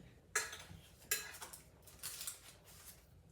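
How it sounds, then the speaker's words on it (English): Homemade sausage gravy and three-ingredient biscuits being spooned into a bowl: two sharp, close clinks of a utensil against the dish, then a run of softer scraping and scooping taps, quiet and without any talking. "I like to put my biscuits and gravy in a bowl"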